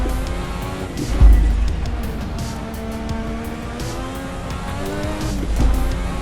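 A 1986 Formula One car's engine driven in Assetto Corsa at the Portuguese Grand Prix, a steady high-revving buzzing drone with rising and falling pitch as it shifts, loud and continuous throughout.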